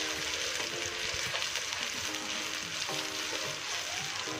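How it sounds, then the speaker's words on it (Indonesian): Ground spice paste for tuna rendang fries in hot oil and is stirred, with a steady close sizzle and light scraping strokes, no talking. "Minyaknya sudah panas, sekarang kita masukkan bumbu yang sudah kita haluskan tadi. Kemudian kita aduk."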